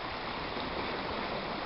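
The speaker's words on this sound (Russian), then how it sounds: "Шум воды слышно." Water rushes steadily at the Reef sea fort in January, a continuous, even hiss of flowing water with no voices, filling the short span at low, constant loudness.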